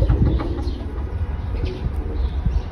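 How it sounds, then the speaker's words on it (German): Chickens and pigeons at a former horse stable turned henhouse in Jordan, with close, continuous low cooing and clucking calls overlapping in a busy, steady chorus. "Und gleich neben unserem Stellplatz, da kräht's und gurt's und gackert's"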